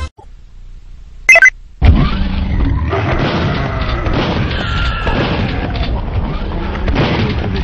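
Grenade eggs exploding in the Banjo-Tooie video game: a short blip, then a heavy boom that swells into a loud, continuous rumbling roar of blasts and debris lasting several seconds.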